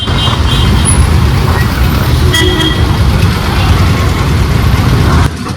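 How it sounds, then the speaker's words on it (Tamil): Dense road traffic in Guruvayur near the temple, with rumbling engines up close and several car horns tooting over the steady drone. "டிராஃபிக்கை பாருங்க."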